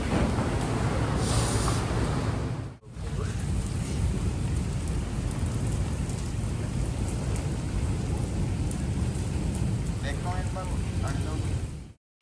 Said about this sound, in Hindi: यहाँ पे बहुत तेज़ तूफ़ान आ रहा था